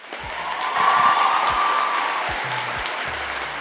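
A crowd applauds steadily at a school debate grand final in Kokopo, Papua New Guinea: dense clapping that swells and holds for a few seconds, with a faint tone and low thumps underneath.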